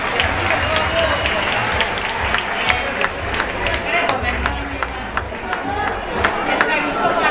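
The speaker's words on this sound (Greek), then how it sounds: "Τέτα Κωνσταντά, χειροκρότημα κύριε και κύριοι μου, την απονομή θα την κάνει ο Σταύρος Κι." An audience at an 80s-themed music event and awards presentation applauds, a dense, steady wash of clapping with a few sharper individual claps, while a voice speaks over it.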